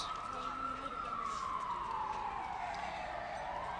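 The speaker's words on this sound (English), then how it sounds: "as we hear a police siren" A police siren wails in a long, slowly falling tone, moderately distant, over faint background noise.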